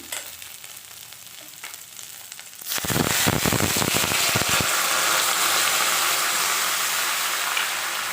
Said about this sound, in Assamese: এতিয়া মই পানী অলপ দি দিম